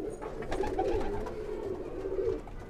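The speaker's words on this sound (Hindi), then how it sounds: "ये यहाँ पर भी कबूतर है" Pigeons cooing inside a breeding loft, soft repeated rolling coos from several birds close by, with light rustling and no talk.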